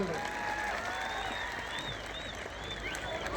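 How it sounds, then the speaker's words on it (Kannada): Applause from the crowd at a village wrestling event in Haliyal fills the whole stretch, a steady dense wash of clapping at moderate volume with a thin whistle-like tone wavering above it. "ಒಂದ್ಸಲ ಜೋರಾಗಿ ಚಪ್ಪಾಳೆ ಇರಲಿ ಬಂಧುಗಳೇ"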